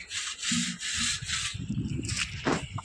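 Copper and brass vessels being scrubbed by hand at a river, giving repeated gritty rubbing strokes in short bursts, close and fairly loud with no talk.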